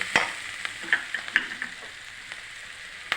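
Ground peanut and chili tempered in hot oil for a drumstick-leaf dish, a steady close sizzle and crackle with a few sharp pops and spatters near the start, then settling into a softer fry.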